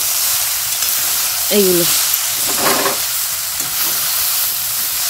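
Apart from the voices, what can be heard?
beetroot, carrot and radish frying together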